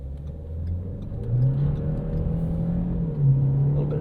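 A 2013 Ford Fusion SE with the 1.6L EcoBoost engine hums while driving, its engine tone rising and settling under load over a low road rumble from inside the cabin.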